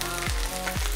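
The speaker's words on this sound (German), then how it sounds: "wenn das Wasser ins Fett kommt, dann gibt es dieses Spritzen" Potato pieces frying in hot fat in a pan, a steady close sizzle with two sharp spattering bursts as water hits the fat.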